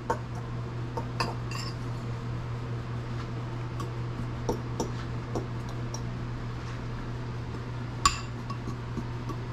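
A fork clinks and taps against a bowl while mixing keto fathead dough ingredients, scattered light chinks over a steady low hum, close and fairly quiet, with one sharper clink near the end.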